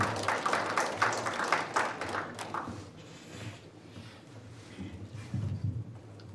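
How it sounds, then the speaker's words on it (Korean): An audience at a fire-safety event claps to welcome a guest speaker, a burst of applause for about three seconds that fades into quieter room noise and a few low voices. "박사님 큰 박수로 맞아주시기 바랍니다."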